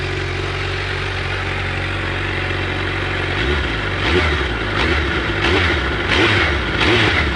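A Suzuki Hayabusa motorcycle's big 1300cc engine idles with a deep rumble, then revs up in several throaty bursts that rise and fall, close and loud.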